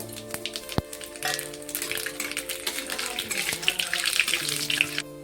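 Nigella seeds, dried chilli and fennel fry in hot mustard oil. A bright, crackling sizzle starts after a few clicks and runs on steadily, with a faint steady hum in the background.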